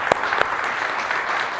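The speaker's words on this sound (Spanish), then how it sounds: "¿por qué no le damos un fuerte aplauso a las personas que están aquí por primera vez?" A church congregation breaks into applause welcoming first-time visitors, a steady crowd clapping with a couple of sharper, louder claps standing out near the start.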